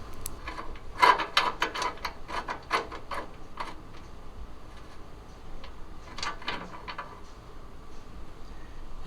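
A ratchet clicks in quick bursts while bolting a brace bar onto a 2015-or-later Subaru WRX, with two clusters of close, crisp ratcheting separated by a quieter pause.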